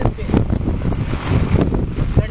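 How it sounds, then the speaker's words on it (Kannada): Wind buffets the microphone in steady low rumbling gusts on a walking pilgrimage between Neelavara and Mandarthi temples. "ಗಾಳಿ ಉಂಟು."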